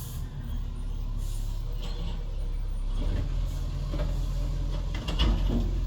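A garbage truck passes outside with a low diesel rumble and mechanical whirring, growing louder toward the end with clanks and a hiss like air brakes, no talking.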